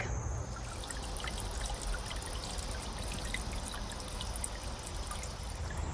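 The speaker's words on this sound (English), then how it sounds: "Now that down there is a Walmart clearance plant container that I turned into a sweet little water feature" Water trickling steadily in a small patio water feature made from a plant container, a continuous close splashing dribble with fine droplet detail and no voices.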